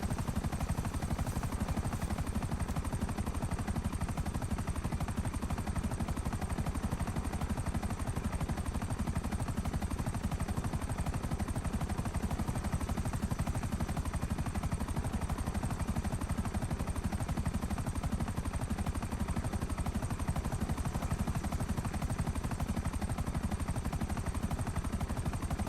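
A Buzzard attack helicopter in a video game race thrums steadily in the foreground with rapid rotor chop and a constant engine whine, loud and unchanging for the whole stretch, and no voices.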